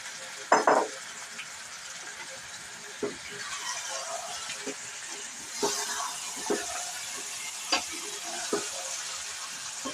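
Chicken pieces hit reddened fried onions for malai chicken, setting off a steady sizzle punctuated by scraping and clattering stirs against the pan, with a person talking over it.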